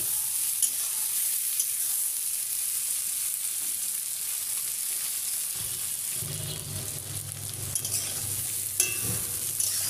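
Raw jackfruit pieces frying in a pan, a steady fizzing sizzle punctuated by occasional stirring knocks, joined partway through by a low background hum, no voices.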